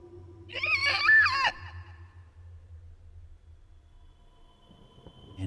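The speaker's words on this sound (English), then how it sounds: "you hear this loud, bellowing screech coming from where you saw the others go" A loud, wavering bellowing screech with a rising and falling pitch bursts out for about a second over a low rumbling drone, then fades to quiet background hum, in a dark fantasy Middle-earth setting near the Wight King.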